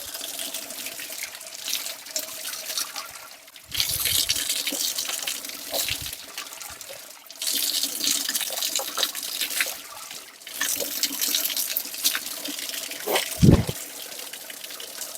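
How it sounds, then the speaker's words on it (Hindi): A forest waterfall pours between rocks in a steady, loud rush of water that surges and eases in waves, with a few low thuds underneath. "इन चट्टानों के बीच से होते हुए झरना बहुत ही मीठा और स्वच्छ पानी है।"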